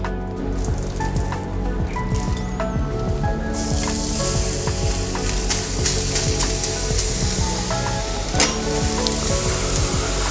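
Thin pounded horse meat (khalakhaty) fries in an oiled, heated pan, giving a steady, close sizzle with crackles and drips that grows louder partway through, and there is no talking.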